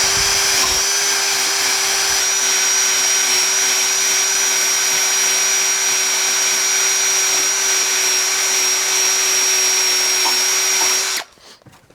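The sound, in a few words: drill spinning an eraser wheel removing a decal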